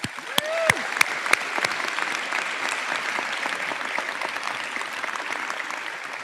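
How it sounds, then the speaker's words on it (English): Students and guests at a school's opening convocation break into sustained applause, a few loud near claps at the start settling into an even, dense wash of clapping from a large crowd with no voices. "Give us a round of applause again"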